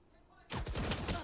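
Rifle gunfire in the tactical shooter Valorant during a tournament match: quiet ambience, then a sudden loud burst of rapid automatic shots that runs to the end.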